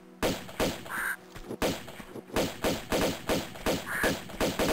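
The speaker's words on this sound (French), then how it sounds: "c'est le corbeau le plus tanky que j'ai vu de ma vie" A crow enemy in the Tomb Raider I-III Remastered game flaps and attacks in rapid repeated thumping bursts, with a couple of harsh squawk-like calls and game impact sounds, steady and fairly loud, no talking.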